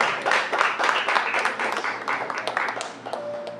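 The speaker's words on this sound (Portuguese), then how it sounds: "Aplauda a vida do Amarildo ao Senhor também." A church congregation at a family service breaks into brisk, crackling applause that swells and fades unevenly for several seconds, with voices calling out over the clapping.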